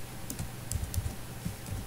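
Soft, quick keystrokes on a computer keyboard, a short run of light taps close by over a low steady hum, with no talking.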